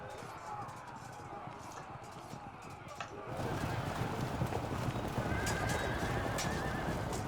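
Horses of mercenary horse archers in the medieval battle game Field of Glory Medieval, at the Battle of Kosovo 1389, neigh and clip-clop, with galloping hooves growing louder and denser midway through over steady battle noise.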